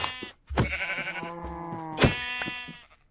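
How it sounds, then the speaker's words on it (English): Sheep in the Minecraft video game bleat twice, each a clear wavering baa, the second following about a second and a half after the first, loud and close with no talk over them. "Bah, sheep."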